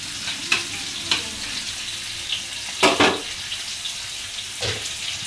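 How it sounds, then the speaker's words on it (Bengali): Fish frying in a pan on a stove gives a steady sizzle, broken by a few sharp bursts of spattering and stirring. "পাশের চুলায় যে মাছগুলো ভেজে নিতেছি, মাছগুলো ভাজা হয়ে গেছে"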